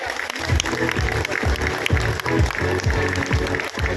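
A crowd at a Padmashali community festival in Palvancha claps continuously, partly drowned by loud music with a steady, thumping beat.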